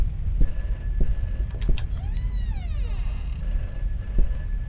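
A telephone rings repeatedly in a scary video game, bursts of bright bell tones returning in a steady rhythm, with a warbling swept tone in between and low rumbling game ambience underneath.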